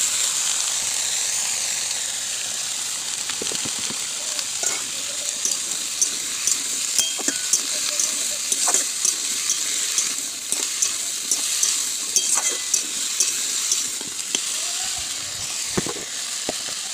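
Beans, potato and carrot fry in a little oil with a steady, close hiss of sizzling, broken by scattered clicks and taps from stirring.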